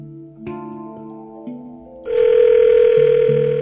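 A rotary telephone in the puzzle video game Cube Escape Paradox gives a few tonal dial beeps, then breaks into a loud, sustained electronic ring that carries on steadily, with no talking.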